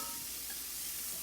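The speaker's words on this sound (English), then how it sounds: "Now my shallots are sweating." Shallots sweating in a pan for risotto, heard as a soft, steady sizzling hiss with no voices.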